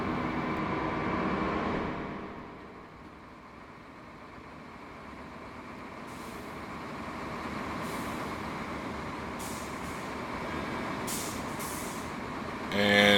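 Simulated train air brakes in Train Simulator 2015 hiss and release, a loud burst at first that fades into a steady low engine idle, with a few short sharp hisses of air near the end.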